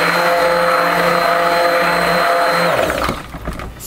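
A stick blender whirs steadily through coconut lime soap batter, a loud continuous motor drone that cuts out near the end into quieter clattering.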